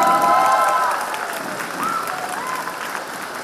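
Audience at a 2017 Mingdao high school graduation ceremony applauds steadily as graduate representatives are welcomed to the stage, broad clapping loudest at first and easing to a sustained, slightly softer level with faint voices beneath.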